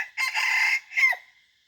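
A red junglefowl rooster crows once during junglefowl decoy hunting, a loud, close call split into a long first phrase and a shorter, rising second part that trails off.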